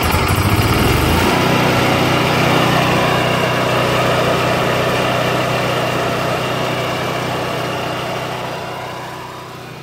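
Cummins Onan RV QG 4000 generator, running on a gas and Seafoam mixture, drones loudly and steadily after a brief start, then fades slightly near the end.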